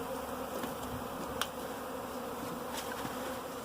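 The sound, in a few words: honey bee swarm buzzing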